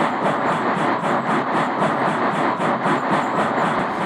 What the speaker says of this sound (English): Eddie, Hector, Clarence, and Duke were having a wonderful time pulling their train